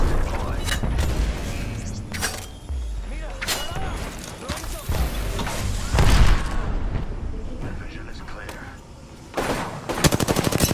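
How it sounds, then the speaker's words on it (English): Grenade blasts amid automatic gunfire in the battle royale shooter Apex Legends, sharp loud booms and rattling bursts spread across a busy firefight, with in-game voice callouts mixed in. "Grenade, watch out."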